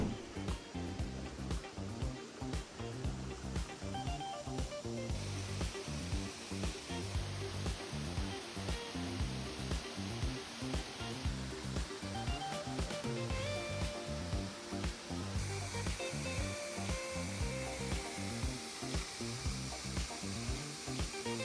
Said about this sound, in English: Last but not least is the Waterfall.